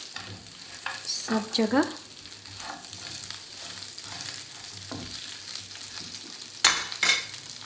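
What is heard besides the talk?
crushed chillies being mixed in a frying pan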